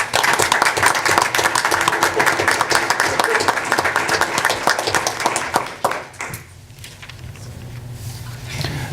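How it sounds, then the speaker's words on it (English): Applause from an audience at a school board meeting honoring classified staff and school retirees, dense steady clapping filling the room for about six seconds before fading into quiet room noise with faint murmurs. "please join me in a round of applause for both our classified staff and school retirees"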